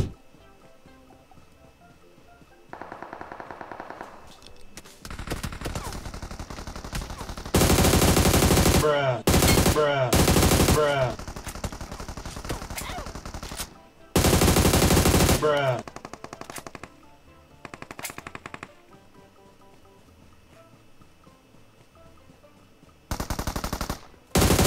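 Video game PUBG gunfire: loud, dense bursts of automatic weapon fire repeat in long stretches, broken by short pauses and single shots, with faint voices talking underneath.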